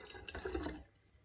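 Jam liquid poured through a funnel while making a fermented soda, a short trickling, dripping flow of liquid lasting under a second before fading to quiet.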